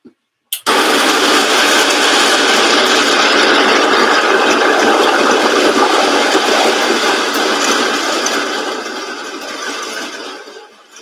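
An electric coffee grinder starts with a click and grinds coffee beans in one loud, continuous, close whirring roar that holds steady for several seconds, then eases and fades near the end.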